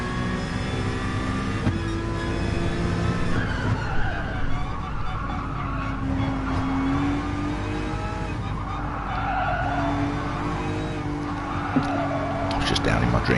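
Engines and tyres of race cars in a sim racing championship, a steady loud drone with pitch-shifting engine tones and tyre squeal, continuing under a commentator's voice throughout.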